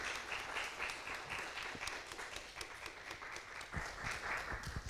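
An audience at a Sunday worship service applauds in a faint, steady patter of many hands. The clapping runs throughout without a break, and no voices rise above it.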